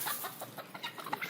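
A hen gives a run of short, close clucks in quick, uneven succession, fairly faint and with no one talking.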